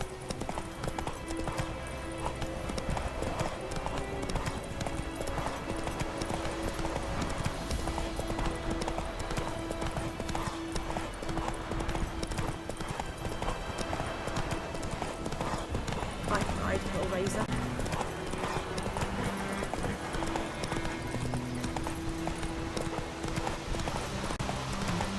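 Steady galloping hoofbeats of Geralt's horse Roach in The Witcher 3, a continuous rhythmic clip-clop with an occasional whinny, under game music and voices talking.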